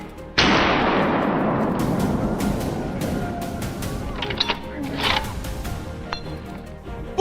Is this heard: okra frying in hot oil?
no